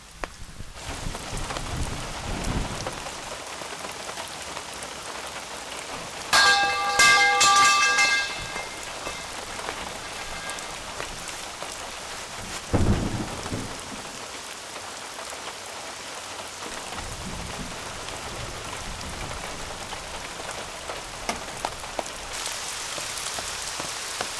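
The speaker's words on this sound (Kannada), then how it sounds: "ನಮ್ಮೂರಲ್ಲಿ ಈ ಥರ ಮಳೆ ಬಂದ್ಬಿಟ್ರೆ" Heavy rain pours steadily on surfaces, with a few sharper louder bursts standing out against the constant wash.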